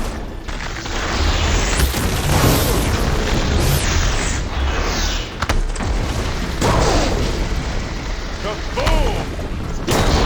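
A heavy explosion in Horizon Forbidden West, part of a blown regulator, fills the scene with a dense, loud roar and rumble, with sharp bursts near 2 and 4 seconds and game voices underneath.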